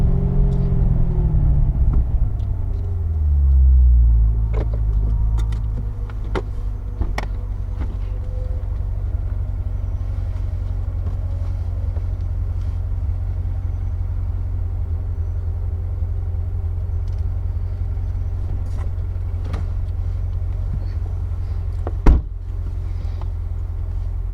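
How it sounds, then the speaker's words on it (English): A car driving in sport mode gives a steady, loud low engine rumble that runs unbroken throughout, with a brief deeper swell early on and scattered faint clicks and knocks above it. "we're driving, and you can tell it's Still in sport"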